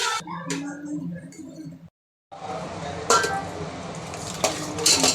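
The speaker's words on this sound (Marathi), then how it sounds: "तर याच्यामध्ये आता आपण खेकडी टाकून घेऊया." Crabs drop into oil-glossed fried masala in a pan for a spicy crab curry, giving sharp clattering shell-and-metal knocks and scraping, a short silent gap, then busy sizzling with several louder clacks.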